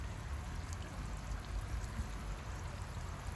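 A lotus pond fountain on a university campus splashes and gurgles in a continuous, even rush of falling water, close and steady with no pauses.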